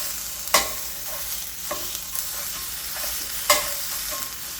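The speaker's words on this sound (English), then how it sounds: "I'm going to add my chorizo first" Chorizo fries with a steady sizzle in a pan, and a few sharp scrapes from a utensil stirring it stand out at irregular moments. No voices.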